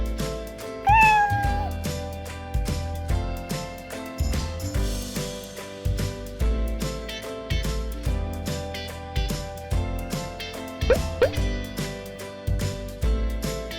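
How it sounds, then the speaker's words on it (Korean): A domestic cat meows about twice, short rising-and-falling calls near the start and again later, over loud, rhythmic background music with a steady beat. "cat, 고양이"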